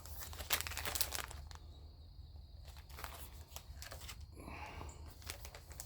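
Plastic crinkling and rustling as a triple-bagged package of pipe tobacco is opened up close, with louder crackles at first, then softer handling and a brief tearing rustle.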